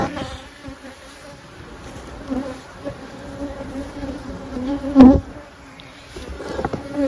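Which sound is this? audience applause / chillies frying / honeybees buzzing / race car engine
honeybees buzzing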